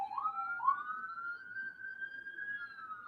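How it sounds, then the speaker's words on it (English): A distant police-style siren wails outdoors behind a live television broadcast, a single faint rising and sustained tone with no talking. "there's sirens in the background because this is live television"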